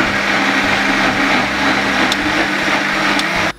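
A mixer grinder runs steadily, grinding korma masala with a little water into a paste, its motor whine and churning holding constant and loud before cutting off abruptly at the very end.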